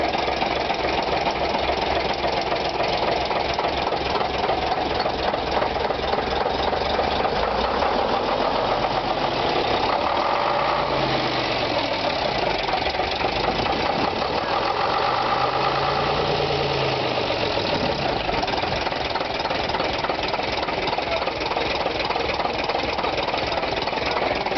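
The RM1086 engine runs steadily, a close, loud mechanical drone with rapid knocking pulses and a couple of slow swells in pitch as the throttle is opened and eased.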